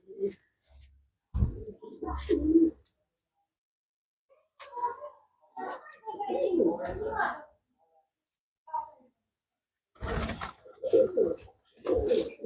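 Pigeons coo in short, soft bursts at close range, separated by brief silences.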